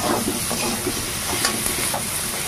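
Small shrimp frying with spices in a hot pan: a loud, steady sizzle and crackle that stays constant throughout, with brief stirring scrapes and no voices.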